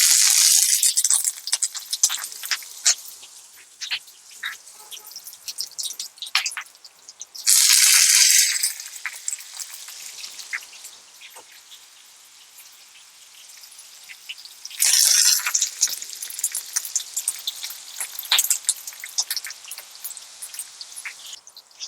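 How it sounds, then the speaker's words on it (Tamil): Marinated fish frying in hot oil in a home kitchen gives off a bright crackling sizzle with scattered pops, surging loudly twice as the pieces go into the pan and settling back to a softer spatter in between. "மீன் வறுக்கிறதுக்கு எண்ணெய் சூடானதுக்கு அப்புறமா நம்ம ஊற வச்சிருந்த மீனை சேர்த்து வறுத்து எடுக்கலாம்."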